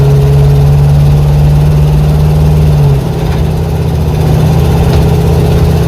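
A 1970 Dodge Charger with a 413 engine and an untuned carburetor runs roughly up close. Its loud, steady low rumble drops in pitch about halfway through, and no one speaks.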